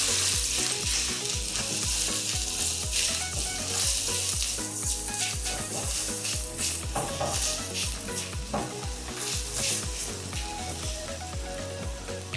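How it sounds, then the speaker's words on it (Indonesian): Sliced shallots sauté in a hot pan for spiced beef tongseng, crackling and sizzling steadily, with the close scrape and clatter of a spatula stirring them. "tumis dulu untuk bawang irisnya ya"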